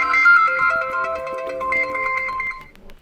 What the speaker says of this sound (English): you can test your ringtone